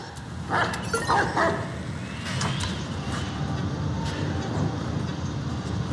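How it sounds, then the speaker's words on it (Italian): Dog barking and yipping in the video game Watch Dogs 2: a few close barks in the first couple of seconds, then a steady game soundscape of ambient noise with a faint rising whine, no speech. "Tanto il cane di qua non ci può saltare."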